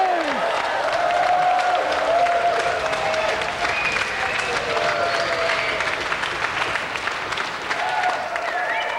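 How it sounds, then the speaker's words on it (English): Steady applause fills a television video-game show studio as the audience claps for the winner and runner-up, dense and continuous with faint cheering tones threaded through. "Okay, so let's have another round of applause for our winner,"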